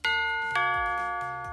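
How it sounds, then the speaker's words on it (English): A toy spaceship doorbell plays a bright two-note ding-dong chime, close and clear, with ringing tones that sustain and slowly decay, followed by soft repeated thumps underneath. "Does this spaceship have a doorbell?"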